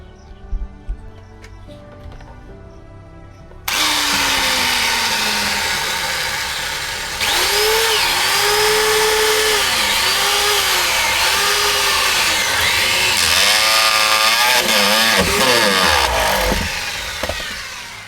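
A power drill bores holes through a cabinet to run a gas pipe while preparing a camping vehicle, whining loudly in bursts with the motor pitch rising and dipping as it bites, after quieter background sounds at the start.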